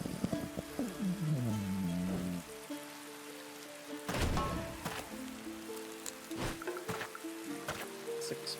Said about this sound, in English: It rains, it pours.